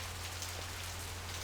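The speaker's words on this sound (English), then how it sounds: "I love the rain, the ambiance, the neon" Steady rain ambience in the Blade Runner video game, a soft continuous hiss of rain on surfaces over a low constant hum, quiet and unbroken with no voices.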